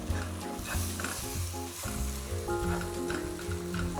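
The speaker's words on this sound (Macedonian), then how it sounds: "Само го оставам да се стопли пилешкото" Chicken warming in a pan for a soup and creamy dish gives a steady, close sizzle that carries on without a break and with no talking, over a layer of harmonic tones.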